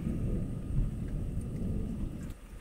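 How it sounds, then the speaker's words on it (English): Thunder rumbles low and continuous through a thunderstorm with the patter of rain, then fades near the end. "A little thunderstorm"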